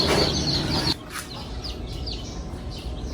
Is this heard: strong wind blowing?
no